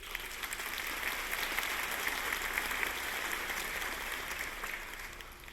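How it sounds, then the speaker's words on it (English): An audience at a faculty convocation gives a round of applause, steady dense clapping filling the room for several seconds before easing slightly at the end. "So can I give you a round of applause for that?"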